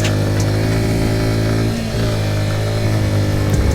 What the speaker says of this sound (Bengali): পাওয়ারফুল একটা বাইক, পাওয়ারফুল মানে স্মুথভাবে উঠে গেল।